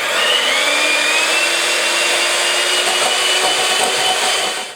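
An electric hand mixer beating egg whites with caster sugar on high speed whirs loudly and steadily up close, holding one continuous tone before cutting off at the end.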